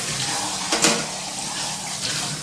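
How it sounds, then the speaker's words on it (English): Tap water rushes steadily as parts of a Samson 9001 juicer are rinsed under it, with a brief louder splash as something passes through the stream. "All you have to do is scrub at the screen and really just rinse at everything else"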